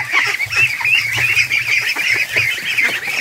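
Loud, continuous honking and chattering from a flock of crossbreed ducks close by, overlapping calls throughout with no pauses.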